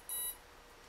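A single short electronic beep from an RC boat's 45-amp speed controller in its programming menu, a brief high tone, faint and alone.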